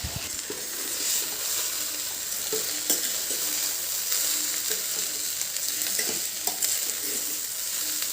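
Sweet potato rice being stirred in a hot pan with salt, a steady sizzle under scraping spoon strokes that knock and clatter now and then, close and continuous with no voices.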